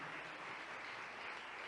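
Church congregation applauding during a preaching service, a steady wash of clapping heard at a distance, fairly faint and even throughout the short moment.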